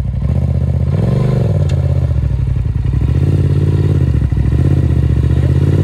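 Side-by-side UTV engine held in fourth gear on sand, a loud continuous drone that swells and dips with throttle, with mechanical clatter and occasional thumps from the ride, close and steady throughout.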